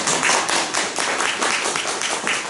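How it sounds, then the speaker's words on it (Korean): A church congregation claps in welcome during a Sunday worship service, a loud, continuous wash of many hands with a slightly rhythmic pulse throughout. "여러분 박수로 환영해 주십니다."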